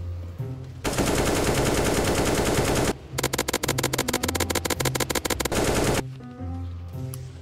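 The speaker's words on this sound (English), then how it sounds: "let's take a look on how shotguns in Warzone feel if they were real" Dense bursts of gunfire fill a live-action Warzone parody, two long, loud, sustained volleys of rapid rattling shots, the second made of quick repeated blasts, with quieter gaps at the start and end.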